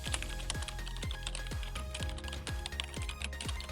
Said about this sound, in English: type MACD reloaded into the search bar